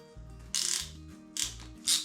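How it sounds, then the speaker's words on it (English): A screw gun tightening a fitting on a shop air line gives short whirring bursts with ratcheting, geared clicks and motor hum, starting and stopping three times in close succession. "Screw gun here to tighten this one up."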